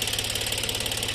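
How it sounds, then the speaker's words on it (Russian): A liquid-cooled diesel engine of a Shibaura SD1803 Japanese mini tractor idles close by with a steady, rapid knocking rhythm and a metallic clatter. "Дизелек жидкостного охлаждения."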